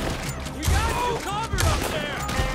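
Rapid gunfire from a Western-era firearm in the Red Dead Redemption 2 video game, several loud shots in quick succession with a voice talking over the battle.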